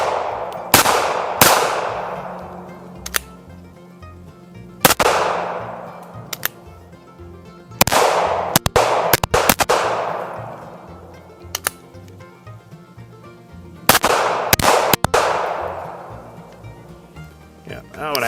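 A KelTec PMR30 pistol fired through a magazine: sharp, loud single shots spaced irregularly, each followed by a long ringing decay, in several spaced groups with pauses between, and a voice talking in places.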